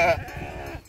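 Sheep bleats loudly and close by at a farm raising sheep during a drought, one short wavering cry that trails off, with no other sound.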